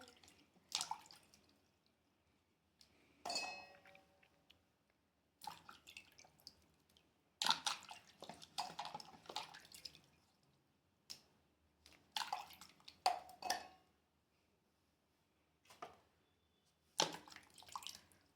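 Tamarind being mashed by hand with chili, turmeric, oil and salt: close, soft wet squishing and squelching in short irregular bursts separated by quiet pauses.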